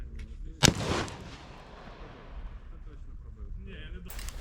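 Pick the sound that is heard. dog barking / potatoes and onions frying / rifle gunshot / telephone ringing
rifle gunshot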